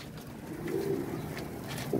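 Soft, low pigeon coos in a loft of about twenty pigeons, a faint murmuring warble under quiet background noise, with no talking.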